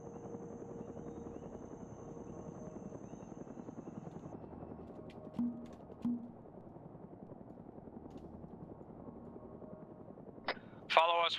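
In a video game, a helicopter drones steadily in the background with a constant rotor hum, broken by a couple of sharp clicks and a brief burst of louder game sound near the end.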